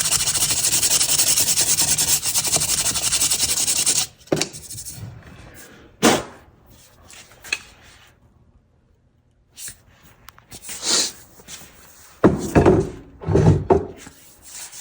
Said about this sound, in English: Do a little sanding over top.